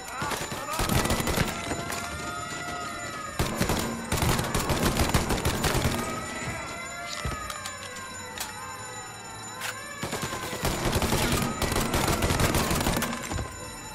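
Tommy Gun fire in the video game Mafia Definitive Edition, repeated bursts of rapid automatic shots that come in clusters with short pauses, loud and close over a steady game soundscape.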